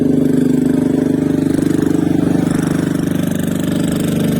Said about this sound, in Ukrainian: Генератор працює, люди відпочивають.